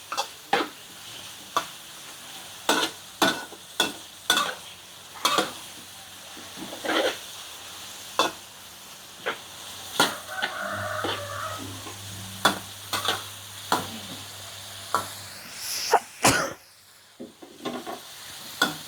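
Sun-dried pork stir-fried with bean sprouts in a pan, sharp repeated spatula scrapes and knocks at a brisk irregular rhythm over a low sizzle, close, with a brief hum partway through.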